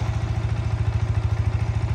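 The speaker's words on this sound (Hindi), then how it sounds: "ये बाइक स्टार्ट हो गई है न्यूट्रल के अंदर।" A modified Yamaha R15 motorcycle runs steadily with the clutch pressed, a close, loud, rhythmic low engine thrum pulsing evenly throughout, with no talk over it.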